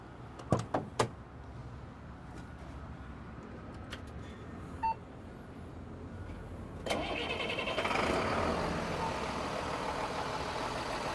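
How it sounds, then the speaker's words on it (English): A diesel truck being serviced after a fuel injection cleaning gives a few sharp clicks and knocks, a short quiet pause, then the engine cranks and catches into a steady, close idle rumble that continues to the end. "we're going to start the vehicle"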